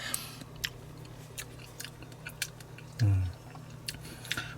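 Someone chews a mouthful of canned Waitrose spaghetti in tomato sauce, soft wet squishing and clicking bites close to the microphone with small smacks, and a brief low vocal sound partway through.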